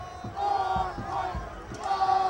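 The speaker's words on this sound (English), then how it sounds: "it seems like the crowd is chanting more points" Sold-out high school football crowd at Compton, chanting in rhythmic bursts late in a lopsided game, steady mass of voices at a distance.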